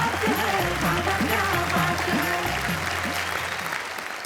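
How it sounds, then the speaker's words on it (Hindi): Loud, dense applause from a large audience at a Hindi poetry event fills the whole stretch, with a steady low hum underneath, easing slightly toward the end. "हम जोरदार तालियों से स्वागत करें"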